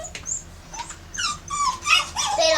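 A pet dog whines and yips in a series of short, high, rising cries, close by and fairly loud, with brief pauses between bursts and no talking over them.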